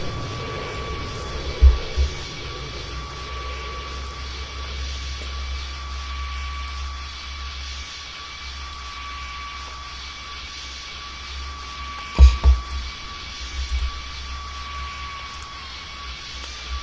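A small jet's engine in Pilot Training Flight Simulator, a video game, holds a steady whine and hum, with a couple of brief low thumps partway through and no talking.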